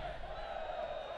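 A stadium crowd at a USL soccer match between Louisville City FC and Richmond Kickers lets out a sustained, fairly distant groan of frustration, one steady swell of massed voices lasting about a second.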